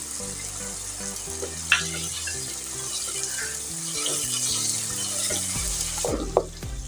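Tomatoes and chillies frying in a pan for chana pulao, a steady hiss of sizzling oil with occasional clinks and scrapes of stirring, with a low tonal background hum, no speech.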